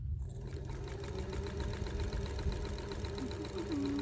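A Singer 221J Featherweight sewing machine runs steadily with a continuous mechanical whir and rapid regular stitching rhythm, close and moderately loud, with no speech over it.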